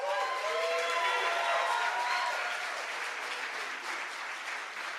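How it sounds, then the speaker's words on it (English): An audience at a Maryland arts day event applauds a speaker with sustained, dense clapping mixed with some cheering and whistles, holding steady throughout and tapering slightly toward the end. "I'd like to now give a round of applause for Denise and ask her to come up to the pod"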